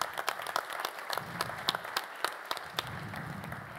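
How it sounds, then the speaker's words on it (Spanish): Audience applause during a panel discussion at the PROTEXTIL 2021 textile industry event in Argentina, a moderate steady patter of clapping with sharper individual claps standing out, somewhat distant. "Así que el aplauso también para todos ustedes."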